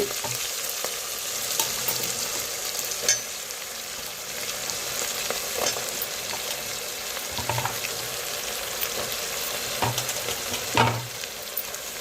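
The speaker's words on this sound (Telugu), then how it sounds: "టమాటా కొంచెం మజ్జింది ఇప్పుడు ముల్లంగి ముక్కలు కూడా వేసేసుకుందాము" Steady hiss of radish pieces frying in a hot pan with tomato, with occasional soft clinks of stirring and no talking.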